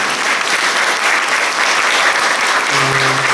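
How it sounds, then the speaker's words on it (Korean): Congregation clapping in a Presbyterian church during an Easter Sunday service after a baptism, steady dense applause throughout, filling the room at close range with no voices over it. "박수로."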